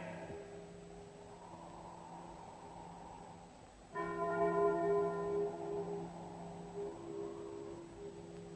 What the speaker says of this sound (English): But stop that bell ringing.